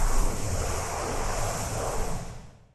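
An airy, windy whoosh layer for a sound effect built from car-key jingles, a steady broadband rush like surf or wind that holds for a few seconds then fades out.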